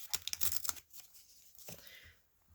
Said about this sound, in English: Just going to feed it a bit and then rip that off.